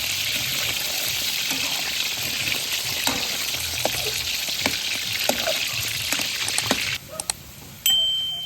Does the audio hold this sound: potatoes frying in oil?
yes